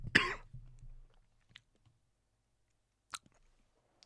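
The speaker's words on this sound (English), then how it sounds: "why so much cough?" A single sharp cough up close, followed by quiet with a few faint clicks and a brief throat noise.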